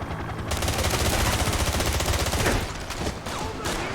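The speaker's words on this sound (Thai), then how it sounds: "เฮ้ยปืน AK" AK-74 rifle fire in the James Bond 007 Blood Stone video game rattles out in a loud, rapid automatic burst for about two seconds, followed by a few scattered shots under a constant background rumble.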